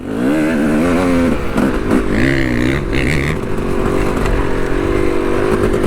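A Yamaha YZ dirt bike pulls away at a riding park, its loud engine revving and rising in pitch, then holding a steady, rough drone close by for the whole stretch.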